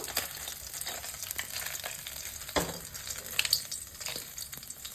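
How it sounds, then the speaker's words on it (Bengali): Fish heads rubbed with salt and turmeric fry in hot oil, a soft steady sizzle with small crackles and pops, fairly quiet and alone. "নুন হলুদ মাখানো মাছের মাথাগুলো এবার ভেজে নেব।"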